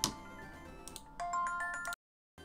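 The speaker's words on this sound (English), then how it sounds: "What awful timing on that phone call." A phone rings during a Pokemon Fire Red game stream, giving a few short electronic ringtone bursts over faint game sounds before it cuts off abruptly into silence.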